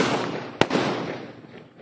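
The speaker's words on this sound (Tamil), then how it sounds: "எதை வைக்கலாம், சரி இந்த மூணு வெடியும் சேர்த்து வைக்கலாம்." Three Diwali firecrackers set off together burst as one sharp crack midway through a wash of loud crackling and hissing, which fades slowly afterward.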